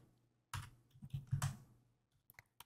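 Quick bursts of typing on a computer keyboard: a cluster of crisp, close key clicks, a short pause, then a few scattered taps, all fairly quiet with no talking.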